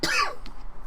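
A single short, harsh cough from an adult man, close and loud, followed by quiet room tone with a few faint clicks.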